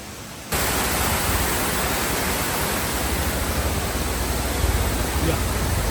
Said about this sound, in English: What is the name of the waterfall? Dunsinane waterfall.